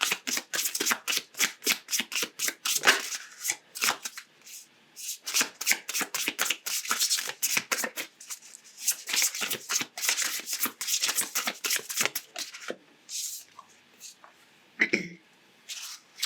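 Oracle cards being shuffled by hand in quick, crisp riffling bursts with short pauses between them, close and clear, and a person speaking briefly near the end.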